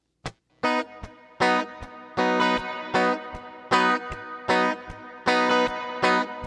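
Electric guitar strummed in a choppy reggae rhythm, short muted scratches alternating with full ringing chords, steady and fairly loud with an effected tone.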